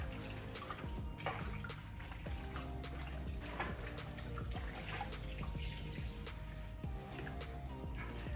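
Wet microfiber towels are lifted from a bucket of rinseless wash solution during car detailing, giving a steady, quiet splashing and trickling of water with drips falling back into the bucket.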